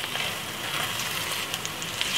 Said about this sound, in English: I'm taking my one little time and frying the salmon